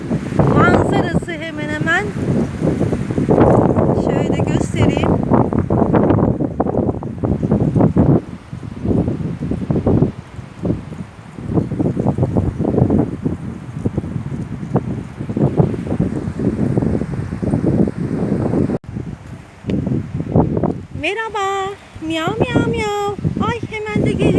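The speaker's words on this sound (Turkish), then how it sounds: "Oo, çok rüzgar var." Strong wind buffets the microphone in a constant loud rumble at a grave site in Balıkesir, Turkey, with a person talking briefly near the start and again at the end.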